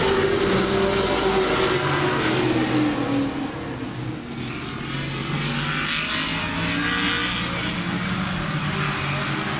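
Oval-track race cars at Laird Raceway roar in a dense, distant pack, engine note dipping and swelling as they circle, with faint commentary underneath.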